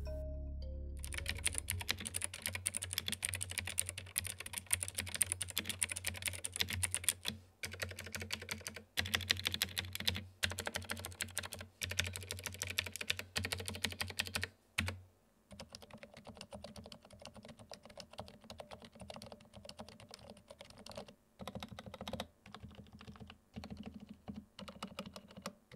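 Typing on a compact 65% Kwumsy K2 keyboard fitted with Cherry MX Silent Red switches and Aurora keycaps: a steady, dense run of soft, muted key presses with brief pauses, close and alone, with no talk.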